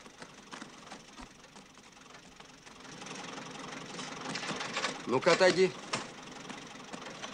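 A tractor in the mountains idles with a low, steady engine rumble that grows louder toward the end, under brief spoken lines from people nearby.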